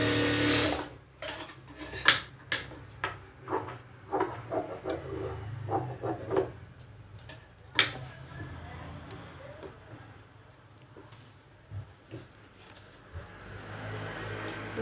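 A sewing machine stitches lining to blouse fabric in short bursts of needle clatter and rubbing, mixed with handling knocks and scrapes, then runs in a softer steady whir toward the end.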